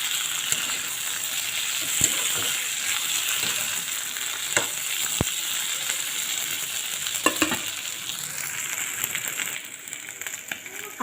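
Potatoes frying in a pan with ginger-garlic paste for a papad curry, giving a steady close sizzle with occasional stirring clinks and scrapes, with no talk over it.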